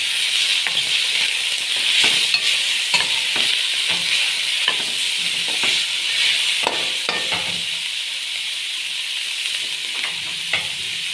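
Chicken pieces sizzling and frying in a pan for Chinese noodles, a loud continuous hiss with repeated sharp scrapes and stirring clatters from a utensil throughout.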